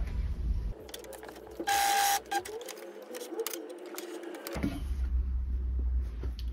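Coverstitch machine running a three-needle stitch with a single looper thread and no knife, sounding as a steady mechanical whir with a sharp loud burst midway and brief pauses, close and alone without talk.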